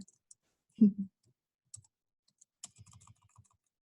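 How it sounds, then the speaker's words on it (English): A few scattered keyboard clicks and taps, one louder thump, then a brief cluster of quiet keystrokes in an otherwise silent room. "I'm typing as you guys talk."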